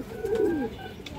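A single pigeon on a pigeon farm gives one clear, rolling coo, close and moderately loud, over a quiet background.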